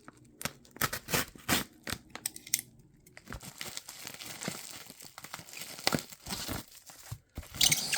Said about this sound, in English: Guess I'll just cut it right here.